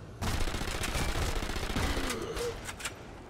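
Rapid automatic gunfire in the video game Sniper Elite 3, a dense close burst of shots rattling for about three seconds before thinning out into a few scattered reports.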